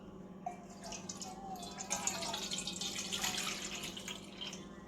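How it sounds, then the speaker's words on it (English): Warm water running into a mixing bowl for homemade pizza dough, a steady, faint splashing and trickling pour that lasts throughout. "You need to add your water,"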